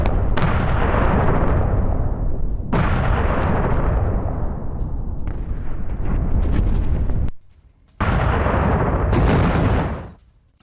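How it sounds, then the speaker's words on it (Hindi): Heavy explosions follow an Israeli air strike in Iran. Several loud, booming blasts each rumble and decay, with a short quiet gap before a final blast that fades out. No voices are heard. "इजराइल के एयर स्ट्राइक के बाद जोरदार धमाका।"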